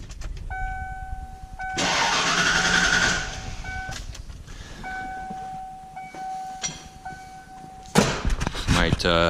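A 1995 Ford F150 4x4 pickup truck's starter cranks in two long whirring bursts separated by pauses, with chime-like tones and a voice speaking briefly.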